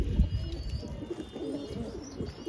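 Pigeons, including a pied mukkhi-type pair, cooing softly at a bird market, low repeated coos with faint chirps and a brief wing flutter at the start, fairly quiet and close.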